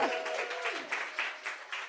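Audience applause at a startup summit finale in a BDC event space, brief steady clapping from a modest crowd, moderately close and unbroken by speech.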